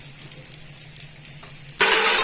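Food cooks gently in an oiled frying pan, a soft steady sizzle that swells abruptly into a loud, bright crackle near the end as more goes into the hot oil.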